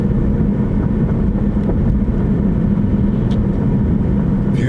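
A car drives along Joy Road in Detroit on a summer night, a steady low road and engine rumble from inside the vehicle that holds constant at full level throughout.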